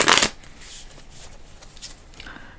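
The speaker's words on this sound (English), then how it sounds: "I'm gonna pull an animal card first." Oracle cards give a short, crisp burst of shuffling right at the start, then fade into faint, quiet handling sounds as a card is pulled.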